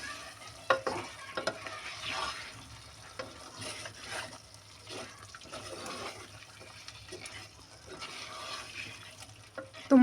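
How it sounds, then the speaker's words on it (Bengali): Duck meat with ginger being stirred in a clay pot, with scraping and stirring strokes over a faint sizzle that come in irregular bursts for the whole stretch, close and fairly quiet. "আবার ভালো করে নাড়ি চাড়িয়ে নেব।"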